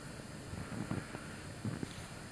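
Wind from a 2007 blizzard rushes and buffets against a microphone outdoors, a low steady roar with a few gusty thumps, fairly faint and without talk.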